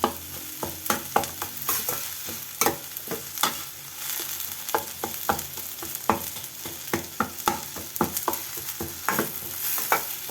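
Whole peeled garlic cloves sauté with chili powder in a pan, a soft frying sizzle broken by frequent sharp stirring scrapes and clacks of a spoon at an uneven, busy rhythm.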